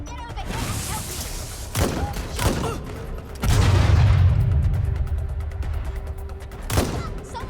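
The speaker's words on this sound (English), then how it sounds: "Someone's shooting." Gunfire in the video game Watch Dogs Legion, with several sharp shots and booming bursts among game sounds and character voices, moderately loud and near.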